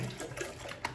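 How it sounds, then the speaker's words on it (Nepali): Water being poured into an electric kettle at home, a short steady pour with a brief splash near the end, close by and moderately loud, with no talking. "हल्का यसरी पानी एड गर्ने"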